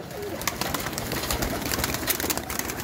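Pigeons after rain give soft, repeated coos close by, mixed with light fluttering and scratchy movement in a pen, with no talking.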